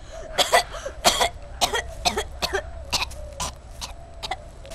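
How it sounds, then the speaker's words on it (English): A person coughs violently in a series of harsh, explosive bursts, some in quick pairs, with throat clearing between them. "A violent cough can develop at higher exposure levels."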